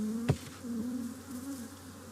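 Honeybees in a hive buzz steadily while it is being smoked, a dense close drone with one brief thump near the start.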